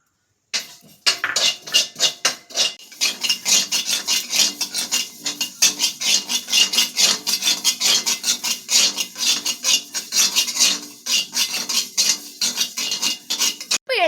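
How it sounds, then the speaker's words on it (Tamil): Black sesame seeds are dry-roasted in a pan and stirred with a utensil, giving a loud, continuous rhythmic scraping and rasping close by, stroke after stroke with no talk. "அடுத்ததாக எள்ளை வறுக்க வேண்டும்."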